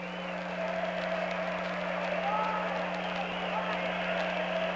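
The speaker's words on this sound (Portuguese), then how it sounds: "Torcida do Fluminense entoa o seu canto de guerra" Fluminense supporters in a packed stadium during a match against Corinthians, a broad, distant roar of massed voices chanting steadily, with a low hum underneath and a commentator's voice over it.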